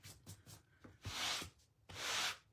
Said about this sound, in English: Sorry, if the sanding noise bothers you, please turn down your sound.